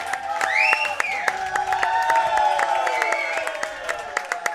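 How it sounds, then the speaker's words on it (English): Crowd at the Australian 8-ball championship cheering and clapping steadily for the 2022 Australian champion, with whoops rising over sustained applause throughout. "Just listen to the crowd."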